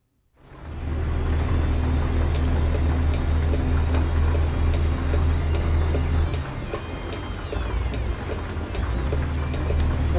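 Heavy rain drums steadily over a rumbling truck engine while driving a 27-ton rig in an American trucking video game, a dense continuous wash that swells in after a quiet start and stays loud throughout.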